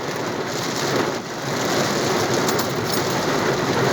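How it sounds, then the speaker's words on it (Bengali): Heavy rain with wind in Riyadh, Saudi Arabia makes a dense, steady roar that stays loud and close throughout, briefly dipping once before surging back. "কাপান্নে বৃষ্টি শুরু হয়েছে রে, কাপান্নে বৃষ্টি।"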